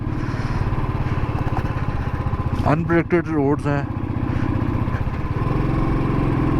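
A motorcycle engine runs steadily while riding a deep-valley mountain road in the hills between Chopta and Pipalkoti, a continuous mid-pitched hum with someone talking over it throughout.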